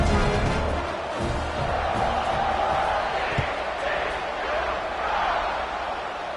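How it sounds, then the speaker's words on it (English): A college football stadium crowd at a TCU vs Texas game keeps up a dense, steady roar and buzz throughout, loud and continuous without distinct breaks. "this crowd is buzzing after that last score"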